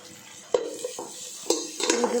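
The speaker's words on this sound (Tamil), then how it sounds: "இப்போ வெங்காயத்தையும் சேர்த்து நல்லா வதக்கி விட்டுடலாம்" Chopped onions being sautéed in a pan for a Tamil kuska (plain biryani), with sharp utensil clinks and scrapes against the metal over a low sizzle, close and clear.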